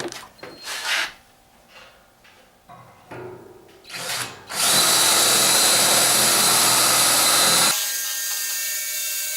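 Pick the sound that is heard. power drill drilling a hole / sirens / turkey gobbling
power drill drilling a hole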